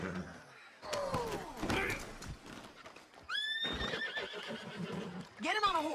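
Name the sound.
horse neighing, from the video game Red Dead Redemption 2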